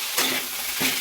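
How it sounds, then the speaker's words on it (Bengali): Sago being stirred in a kadai over a low gas flame, a soft continuous sizzle with two brief scraping sweeps of a spoon across the pan. "গ্যাসের ফ্লেমটা আস্তে করে দিলাম, দিয়ে নাড়ছি"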